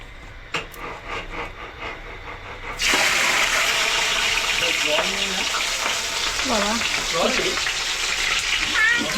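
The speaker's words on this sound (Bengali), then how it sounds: "আমি এগুলো সব ভাজবো এবার" Okra, potato and pointed gourd fry in a pot with a steady loud sizzle that swells suddenly partway through. Faint clatter and stirring sound under it, while a voice murmurs at the start.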